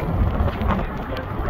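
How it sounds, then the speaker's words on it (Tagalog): Heavy rain lashes the top of an observation tower at Niagara Falls, a loud, dense, windy roar of falling water and gusts filling the whole moment. "Umuulan, umuulan, malakas. Ramdam natin yung ulan."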